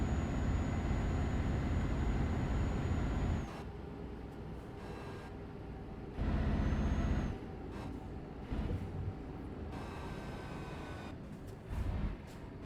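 Truck driving on a road in Euro Truck Simulator 2, a low engine drone and road rumble that shifts in level with gear changes, a few tonal whines and brief mechanical clunks, no voices.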